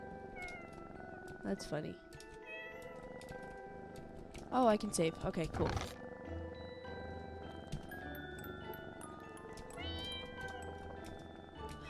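Cats meow repeatedly in the video game Pocket Mirror, with several drawn-out cries spread across the scene over a steady musical background while a person talks intermittently.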